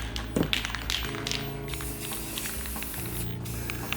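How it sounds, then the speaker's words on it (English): Spray paint hisses from an aerosol can onto a primed MDF board in steady, continuous bursts close up, with a faint tap and can rattle near the start. "I'm just spraying them on."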